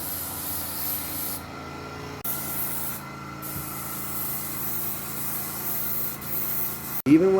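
Spray gun laying another coat of paint onto a part from a 2009 Harley FXSTC Softail, a steady close hiss with two short pauses in the spray before a final louder burst at the end.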